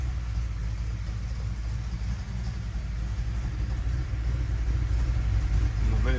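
A 1968 Coronet RT's 440 V8 idles in a steady, deep, loud rumble with a constant throb close to the microphone, with no talking over it.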